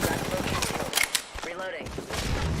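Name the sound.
gunfire in a video game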